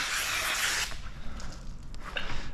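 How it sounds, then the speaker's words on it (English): Slip solution is sprayed onto paint protection film on a Harley Davidson side panel cowling, a close, steady hiss of mist for under a second followed by a few faint wet squishes. "we'll get a little bit of slip solution in here"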